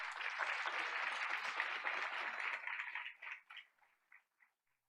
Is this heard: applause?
yes